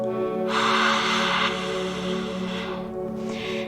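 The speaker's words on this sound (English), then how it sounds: "breathing in through the nose, and then exhale, stick your tongue out" A forceful open-mouthed exhale with the tongue out during a yoga practice, a loud breathy rush lasting about a second, followed by quieter breathing over steady background music.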